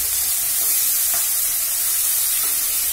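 A little water added to frying spice masala with green chillies for spicy prawn kosha gives a continuous loud, close sizzle and steamy hiss, unbroken throughout.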